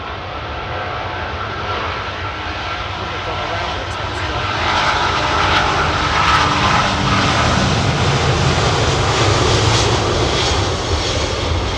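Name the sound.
aircraft engines at London Heathrow Airport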